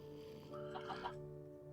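Soft, brief clucks from chickens in Minecraft with the Quark mod, a short burst of a few quick notes, faint and close over a steady low background tone with no talking.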